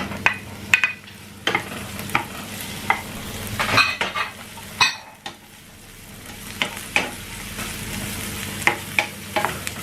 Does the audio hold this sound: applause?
no